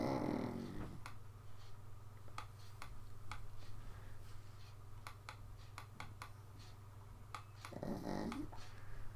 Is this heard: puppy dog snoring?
yes